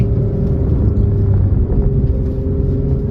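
A car engine drones loudly and steadily at high revs on a steep downhill mountain road, a deep continuous hum with a sustained low tone and no talking.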